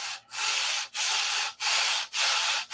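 A sanding bar rasps back and forth over a model airplane, likely a Republic P-47 build, in four steady rhythmic strokes with brief pauses between them, close and alone.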